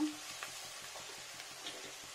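Garlic paste frying in a pan for a fish-roe jhol, a soft steady sizzle with faint rhythmic ticks of stirring, continuous and fairly quiet throughout.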